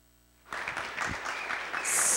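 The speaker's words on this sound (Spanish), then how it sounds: "Muchísimos aplausos a todas" A crowd at a children's rights discussion event breaks into applause after a short quiet lead-in, clapping building to a steady moderate level, with a bright hiss rising at the end.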